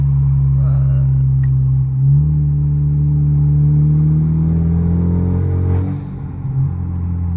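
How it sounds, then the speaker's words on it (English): A Hyundai Genesis Coupe with a turbo and an HKS Boulevard exhaust accelerates, its engine drone rising steadily in pitch, heard loud and close from inside the car before easing off near the end. "Listen to this little spool."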